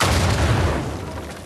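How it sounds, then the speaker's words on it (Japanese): An exploding mummy blowing up in Uncharted 4, a loud, deep booming blast that fills the moment and fades out over about a second and a half. "爆発するミイラ。"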